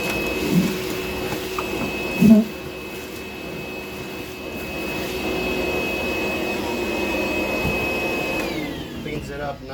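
A DeWalt DCV581H cordless wet-dry vacuum runs steadily with a loud, even rushing roar and a thin high whine, briefly bumped by handling noises early on, then winds down near the end while a voice talks over it.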